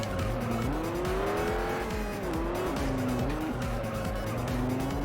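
A race car in a racing video game drives hard, its engine note rising and falling through gear changes with tire squeal and skidding, loud and continuous with no talk.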